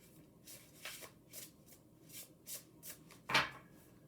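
Oracle cards are shuffled by hand in a series of quick, soft riffling bursts, about eight in a row, close by, ending with one sharper slap of the deck.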